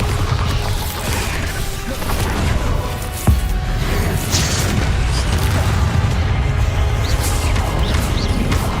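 Bombarda spell explosions from a Harry Potter video game: dense, continuous booming blasts and crashing impacts with one sharper bang partway through, loud and close throughout.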